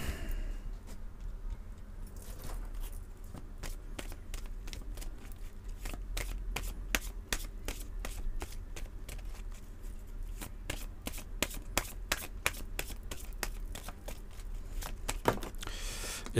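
Cards are shuffled for a card draw in a reading, producing a steady run of crisp riffling flutters close up, repeated throughout with little else heard.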